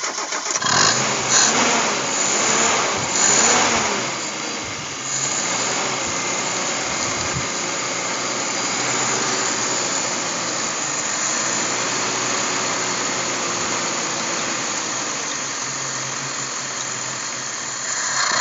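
A Suzuki Escudo engine fitted with a Kijang 5K carburetor cranks on the starter, catches after a few seconds and settles into a steady, even running drone that continues alone to the end.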